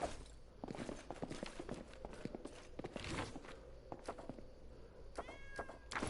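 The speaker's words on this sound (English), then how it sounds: "I can get a cat." A cat meows in the fantasy video game Pathfinder Kingmaker, a few short mews over a steady run of light footsteps and soft clicks, with a brief higher cry near the end.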